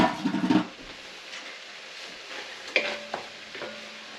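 Butter drops into a hot Dutch oven and sizzles, opening with a brief stir and clatter, then a soft steady frying hiss with a couple of small knocks, close but quiet.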